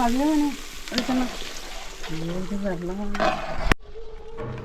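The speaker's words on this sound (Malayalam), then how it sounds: "ഇനി നമുക്ക് നല്ലപോലെ ഇളക്കിയിട്ട് വീണ്ടും അടച്ചു വെക്കാം" A large pot of home-style chicken curry made with 10 kg of chicken is stirred under a soft sizzle, with a person talking over it and a sharp metallic clank near the end.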